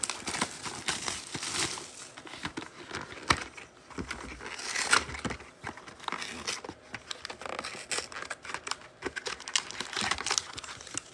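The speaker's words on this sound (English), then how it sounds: "we're gonna take this illusions box and open it up" NFL trading card packs from an Illusions box being torn open and handled, close crinkling foil wrappers, rips and card shuffling in irregular bursts throughout, no talking.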